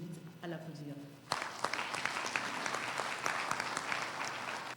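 An audience at an International Women's Day event breaks into sustained, dense clapping after a brief spoken introduction, holding at a steady level to the end.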